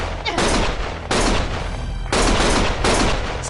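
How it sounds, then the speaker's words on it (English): Loud, close bursts of automatic gunfire from the video game Lost Judgment, arriving in several sustained volleys separated by brief drops. "Stop shooting!"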